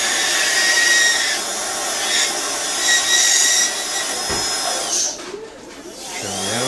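A rotary dental handpiece trims and smooths the margin of an acrylic temporary bridge, giving a continuous high-pitched whine with small shifts in pitch and load, then easing off briefly near the end.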